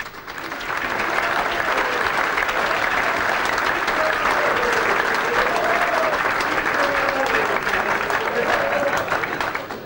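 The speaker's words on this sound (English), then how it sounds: "Round of applause for him." Audience applause for a football player, sustained clapping from a crowd that swells quickly and holds steady for several seconds before tapering off, with a faint voice underneath.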